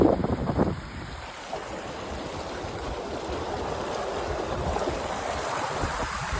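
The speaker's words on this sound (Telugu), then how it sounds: "నీళ్ళు చూడండి ఎంత స్పీడ్గా వస్తున్నాయి" Fast, muddy, chocolate-brown stream water rushes past in Ladakh as a steady broadband roar, preceded by a brief louder splash at the start and continuing without talk.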